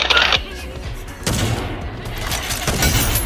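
Gunfire from a sniper battle mode in the online shooter game Battle Teams 2, with loud close shots and rattling bursts, then a sustained spray of fire and echoing reports.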